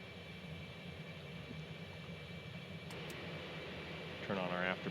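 Steady jet engine roar of an F-18 in the X-Plane flight simulator, a continuous even drone held at moderate level throughout, with a brief burst of voice near the end.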